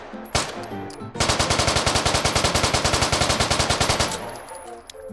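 An MPX submachine gun fires one long sustained burst in the VR shooter H3VR, about three seconds of rapid evenly spaced shots, loud and close, with a sharp click just before and after.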